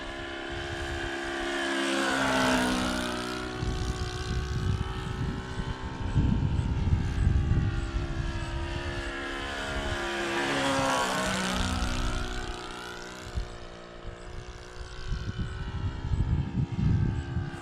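A Piper J-3 Cub scale RC model airplane flies past at full power, its engine drone rising and falling through two Doppler sweeps as it climbs and passes, loud and steady with no talking.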